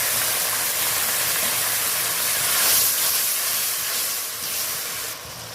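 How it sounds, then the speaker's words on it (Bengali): Hot water poured into a pan of frying onion and tomato for a fish curry sets off a loud, steady steam hiss that carries on for several seconds, close by. "তার আগে অল্প গরম জল দিয়ে দেব"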